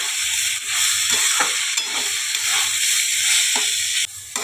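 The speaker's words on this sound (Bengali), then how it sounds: "এবার আমার চালটা হয়ে গেছে ভাজা, আমি এবার নামিয়ে দিচ্ছি" Rice fries in a pan with a loud, continuous sizzle and hiss, broken by several short scraping stirs spread across the sound; no talk.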